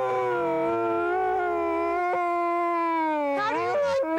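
An Alaskan Malamute howls up close in one long sustained, wavering tone that holds steady for several seconds, then breaks upward into a few rising, yelping pitch swoops at the end.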